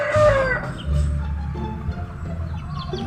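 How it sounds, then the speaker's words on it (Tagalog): A rooster crows nearby with a rising, drawn-out call, then chickens cluck and murmur in the background. "Manok."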